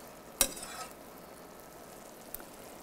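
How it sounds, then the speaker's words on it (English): Broth is poured into a simmering wild mushroom risotto, a quiet steady sizzle with one sharp clink of a ladle or pan near the start and a small tap later. "I'm going to add more broth"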